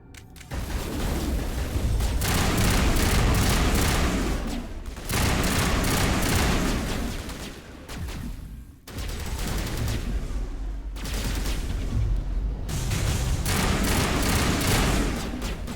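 Gunfire during a Mass Effect firefight in a lab, loud dense bursts of rapid shots in several long volleys separated by brief gaps, booming and close, with no voices over it.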